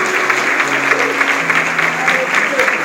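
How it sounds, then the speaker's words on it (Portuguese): A congregation applauds during a church service, with steady clapping under sustained voices or music. "Você pode aplaudir ao Senhor"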